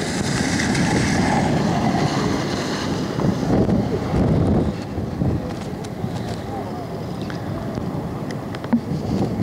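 Strong wind gusts roar across the microphone on a riverbank of the Olt during fishing, a loud, broad buffeting rush that eases slightly toward the end, with faint voices underneath.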